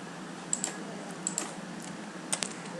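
Faint, sparse computer keyboard keystrokes over a steady background hiss, with a handful of light clicks spaced out across a few seconds.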